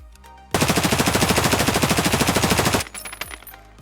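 An MP5 fires in Escape From Tarkov as a single loud, close, fast-rhythm burst of about two seconds, with quieter mechanical handling clicks before and after.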